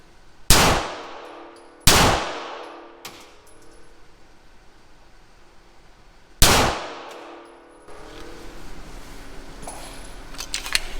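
Three loud, sharp shots from a Springfield Armory Prodigy 4.25-inch pistol firing 115 grain rounds ring out near the start, spaced about a second apart, then a lone shot follows after a pause, with faint metallic ringing and clatter between.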